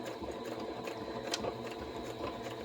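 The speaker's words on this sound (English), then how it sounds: "And then you put your needle in the down position. And then you're going to do a back stitch." A sewing machine runs a short back stitch, its rapid mechanical needle chatter steady and close for a couple of seconds with no voices.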